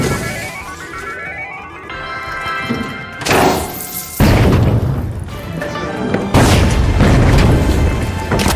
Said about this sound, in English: Goo grenade out! Throwing some goo!